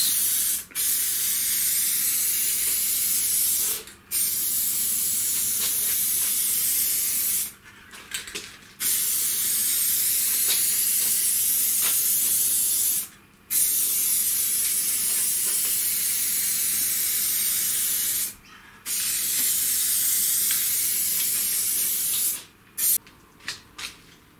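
An aerosol spray can applying paint to a car body, loud continuous hissing bursts lasting several seconds each, separated by short pauses, with no talking.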